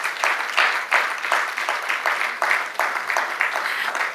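An audience claps at the opening of an international arbitration conference, bursts of applause rising and fading in a regular rhythm, moderately loud and close, with no talking over it.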